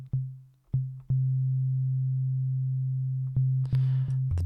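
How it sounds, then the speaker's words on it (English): A steady, pure low sine-wave synth bass tone from an Ableton Live instrument sustains for several seconds, with a few brief clicks and a burst of hissy noise near the end. "You open it up and it's pretty much just a sine wave"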